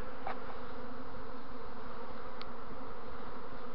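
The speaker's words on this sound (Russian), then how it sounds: "Пчел много ползает." Honey bees buzz in a dense, continuous drone around an early-swarming hive, close and steady, with a faint passing buzz of single insects standing out briefly.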